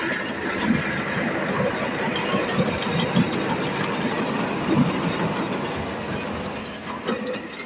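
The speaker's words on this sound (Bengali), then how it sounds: "ইঞ্জিনের সাউন্ড তো মিষ্টি সাউন্ড, ইঞ্জিনের কিন্তু মিষ্টি সাউন্ড।" A Tafe 7250 DI tractor engine runs steadily nearby, a continuous dense diesel rumble with a rattling mechanical texture and no breaks.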